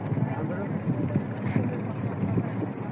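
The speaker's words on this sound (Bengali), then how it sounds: "এখন ট্রলার নিয়ে যাচ্ছি আমরা।" A trawler boat travels on the Padma river, its engine a low rumble under wind buffeting the microphone, with a voice speaking close by throughout.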